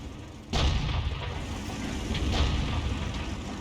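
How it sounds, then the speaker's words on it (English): A Super Chaffee tank in World of Tanks fires a single loud shot, a sudden boom followed by a long rumbling decay amid the noise of battle. "the Super Chaffee stopped to take a shot at the enemy there"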